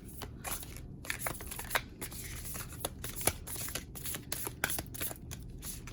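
Tarot cards shuffled by hand during a pick-a-pile reading, a steady run of riffling, flapping card sounds with sharp bursts, close and alone without talk.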